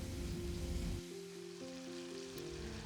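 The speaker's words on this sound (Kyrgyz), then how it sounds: "Мына ушинтип сонун кылып пиязды да кууруп алдык, кызарта бир аз жумшарганча" Onions frying in a pan for buckwheat pilaf, a steady soft sizzle heard up close, louder for the first second and then settling into a quieter, even crackle.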